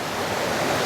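A stream running full with plenty of water gives a brief, steady rushing wash of flowing water, even and close, with no other sounds.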